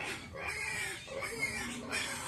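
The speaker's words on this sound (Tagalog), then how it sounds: "Ang ingay na sa ating mga alagang baboy." Farm pigs kept as livestock grunting and oinking in a steady, noisy chorus close by, with squeals rising over the din and people talking in the background.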